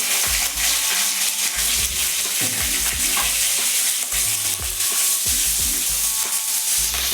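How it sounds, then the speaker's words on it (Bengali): Loud, continuous sizzling of small tangra catfish frying in hot oil, with scattered clinks and scrapes of a utensil moving in the pan throughout. "মাছগুলো আমি আগে ভেজে নেব"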